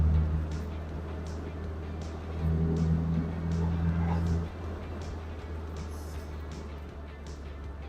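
A 2011 Morgan 4/4 Sport with the 1.6 Sigma engine accelerates on the road, a steady low engine drone from inside the car that rises briefly in the middle, with faint ticking and wind noise.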